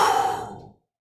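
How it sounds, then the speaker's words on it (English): A single forceful exhale during a breathing exercise, a loud, close breathy push of air that fades out and ends in silence. "This time, forceful air out."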